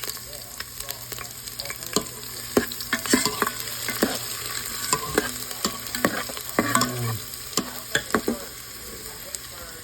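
Garlic sizzles and fries in a hot pan under repeated scraping stirs from a utensil, steady crackle with frequent clacks, close and fairly loud.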